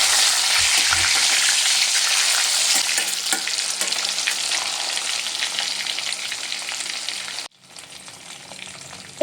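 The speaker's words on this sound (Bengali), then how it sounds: "কাঁচা কলাগুলো খুব ভালো করে নেড়ে চেড়ে আমি ভেজে নেব।" Raw banana pieces fry in hot oil in a pan and are stirred, giving a steady loud sizzle with scraping strokes that drops off abruptly near the end.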